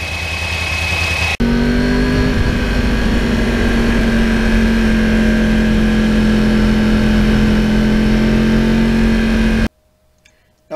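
A 2009 Yamaha R1 crossplane superbike engine roars loud and close, its note climbing and then holding a steady, high drone for several seconds before cutting off abruptly into near silence.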